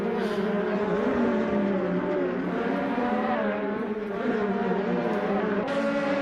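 Audi and BMW DTM race cars in the Assetto Corsa video game at Lausitzring, a steady buzzing engine drone with shifting pitch held throughout, close and continuous.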